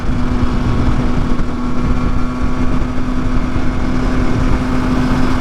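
A Husqvarna SMS 125 two-stroke motorcycle being ridden, its engine a loud, steady drone that holds an even pitch throughout, with no talk.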